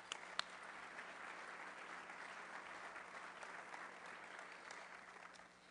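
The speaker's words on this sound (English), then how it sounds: "Please give our club directors a hand of applause." Faint, distant applause from members at a Rotary Club of Denver meeting, an even wash of clapping with one sharp clap near the start, tapering slightly at the end.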